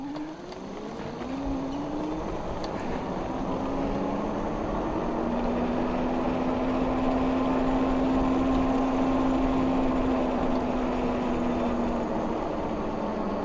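A Hay Bike Explorer e-bike with a 750 watt, 48 volt motor climbs a hill, its electric drive whine steady and close, rising slightly in pitch and holding over road and wind noise, with no talking.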